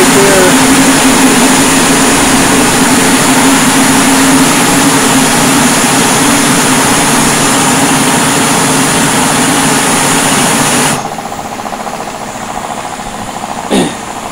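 A metal rotating flow turbine runs loud under throttle with a steady engine-like roar and whine for about eleven seconds, then drops sharply in level as it spins down, with a brief knock near the end.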